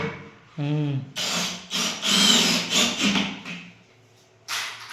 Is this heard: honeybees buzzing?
no